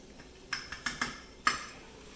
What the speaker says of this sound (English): we're gonna use a butter knife to like make sure it's not stuck to it